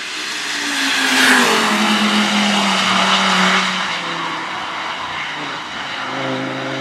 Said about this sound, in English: we had a video of R8, which kind of does drifting and so on